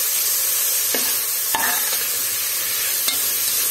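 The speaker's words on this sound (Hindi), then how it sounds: "इनको अच्छे से सौते कर लेते हैं। अब इसे 1 से 2 मिनट के लिए पकने के लिए रख देती हूँ प्याज को।" Onions sautéing in a pan for veg pulao, a steady broadband sizzle with a few faint stirring scrapes and taps, close and continuous with no talking.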